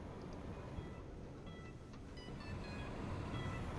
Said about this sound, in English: Here comes train number 2.